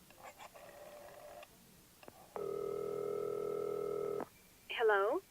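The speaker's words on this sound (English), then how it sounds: "The phone rings on the other end." A telephone rings on the other end of a local call placed from a room, one long steady two-tone ring burst after faint dialing sounds, followed by a brief voice at the end.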